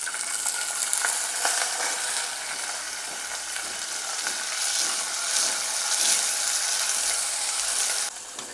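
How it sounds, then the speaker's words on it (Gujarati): Chopped cluster beans sizzling in a pressure cooker with hot oil, carom seeds and a pinch of asafoetida: a loud, close, continuous hiss and crackle with stirring scrapes, fading slightly at the very end, with no voices. "તરત જ સમારી રાખેલો ગુવાર ઉમેરી દઈશું"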